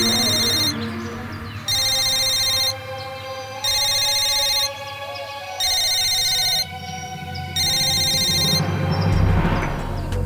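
A phone ringtone rings in five even bursts with short gaps, loud and close, over a steady low background hum.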